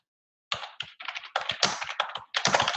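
Quick bursts of close keystrokes on a computer keyboard come in short uneven clusters with brief pauses, loud and clear against silence, with no talking.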